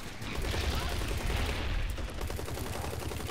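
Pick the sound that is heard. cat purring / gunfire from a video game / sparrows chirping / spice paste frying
gunfire from a video game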